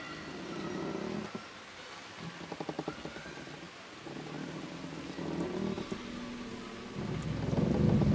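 Heavy rain pours steadily with rolling thunder, including a cluster of sharp cracks early on and a deep rumble swelling toward the end, no voices over the storm.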